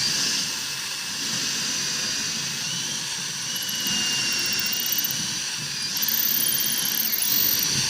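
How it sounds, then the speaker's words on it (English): A continuous high-pitched whine of a power drill running steadily close by, drilling straight through wood on a sailboat, with a gritty grinding undertone and a slight pitch shift near the end. "just drill straight through the wood"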